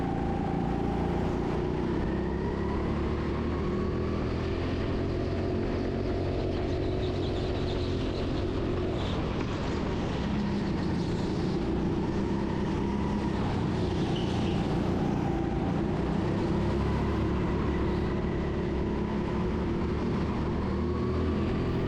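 Go-kart engines racing around an indoor TeamSport karting track in Sheffield, a constant close buzzing drone with rising and falling engine pitches as karts accelerate through traffic.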